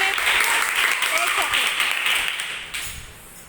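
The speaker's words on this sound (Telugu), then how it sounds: "వెరీ గుడ్, క్లాప్స్ కొట్టండి." A group of children clapping together, dense and fairly loud at first, then thinning and fading toward the end, with voices faintly present under it.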